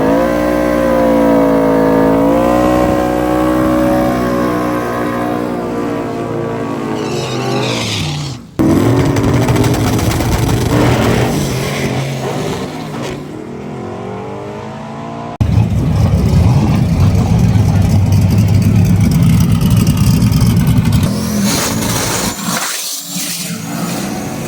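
Stick-shift drag race cars at a gear-banging drag racing event, engines revving loudly and continuously with rising and falling pitch, an abrupt shift break midway, then a harder, louder run near the end.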